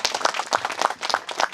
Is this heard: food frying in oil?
no